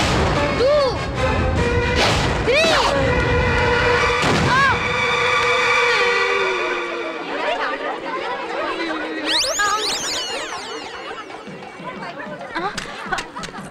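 A gunshot in a Telugu comedy film scene, with sharp bangs early on and a later burst of crackling whistling noise, heard over dialogue and background music.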